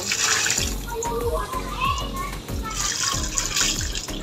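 Running water splashes over the rotten roots of an adenium plant as they are washed, a close, steady gush with shifting splatter while voices talk over it.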